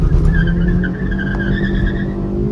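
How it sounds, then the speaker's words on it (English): A third-generation Honda City engine revs to 4500 rpm in first gear while the tires spin and squeal, a loud continuous whine and roar that holds steady throughout. "There you see, there's the amount of wheel spin on offer from this engine."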